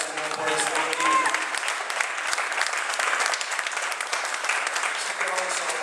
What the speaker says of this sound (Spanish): Den un aplauso al Señor por este motivo.